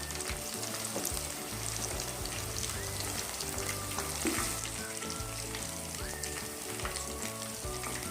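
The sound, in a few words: chicken 65 frying in oil on low flame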